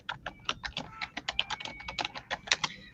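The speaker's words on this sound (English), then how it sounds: "I have a mechanical keyboard, so it clickety, clickety, clickety clacks when I type" Rapid typing clatters on a mechanical keyboard, with about twenty crisp, clicky keystrokes in an uneven, quick rhythm, close and clear with no talking.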